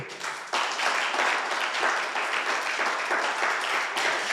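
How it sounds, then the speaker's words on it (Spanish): Dense, continuous applause from a church congregation during a sermon, a close, even wash of many hands clapping that swells slightly after the first half second. "Dale un aplauso a Dios"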